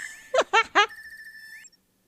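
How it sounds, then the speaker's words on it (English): A phone ringer from the video game Trails of Cold Steel III gives three quick chirpy bursts and then a steady electronic tone that cuts off, loud and close with no talk. "It's a ringer with a bird chirp."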